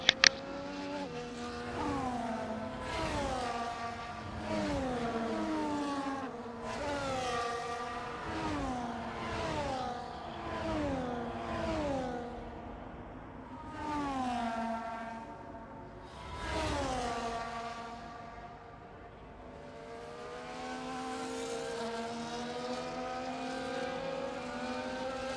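Formula One cars in the F1 24 racing game roll through a formation lap at Great Britain, with several engine notes rising and falling in repeated revving sweeps, moderately loud and steady with no talk.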